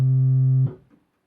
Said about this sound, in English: a diapason